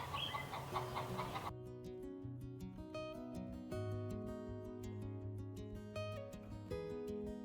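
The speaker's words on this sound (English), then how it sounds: "I'm in the chicken yard right now." Chickens in a chicken yard cluck in short, repeated calls at moderate distance, fairly quiet, with no talking.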